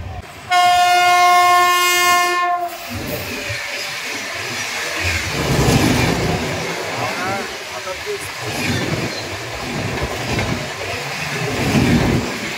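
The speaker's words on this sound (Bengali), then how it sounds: "ফাইনালি এখন আমরা রেল ব্রিজ অতিক্রম করছি" A loud train horn blasts for a couple of seconds, then the Humsafar Express rumbles across a railway bridge with rhythmic clatter while people talk nearby on board.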